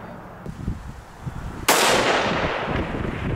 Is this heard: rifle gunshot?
yes